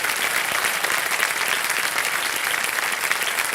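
A studio audience claps on a televised quiz show, Kaun Banega Crorepati, giving dense, loud, sustained applause that holds steady across the whole moment with no voices over it.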